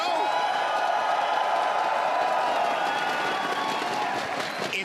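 A live esports arena crowd at the ALGS Apex Legends playoff finals roars with sustained cheering and applause, a dense, even wash of noise with whoops rising over it, holding loud for several seconds.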